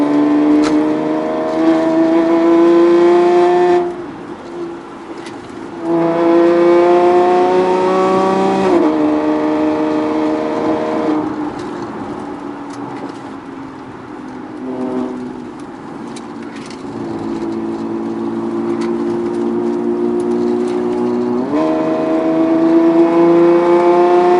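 A car engine revs up and drops back in repeated cycles on a wet shakedown drive after a catalytic converter repair, with rising tones, throttle blips on downshifts and steady road noise in between.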